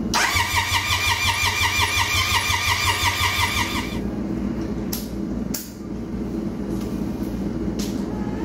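An old, neglected motorcycle engine that hasn't run in years cranks over in a steady, rapid rhythmic churn for about four seconds without catching, then stops, leaving a low hum and a few sharp clicks.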